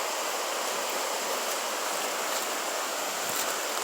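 A flooded creek, swollen several feet above its usual level, rushes past in a steady, loud broadband roar with no pauses.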